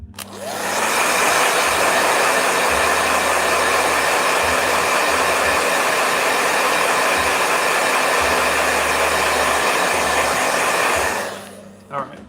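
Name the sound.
blow dryer running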